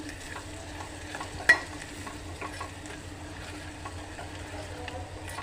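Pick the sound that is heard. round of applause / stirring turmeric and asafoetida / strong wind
stirring turmeric and asafoetida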